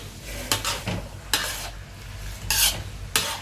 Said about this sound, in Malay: Kita masukkan ayam ayam yang kita goreng tadi. Kita masukkan. Kita kacau.